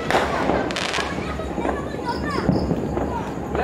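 New Year 2024 fireworks and firecrackers bursting in a rapid, dense crackle of pops and bangs, loud and close, with people's voices mixed in under the explosions.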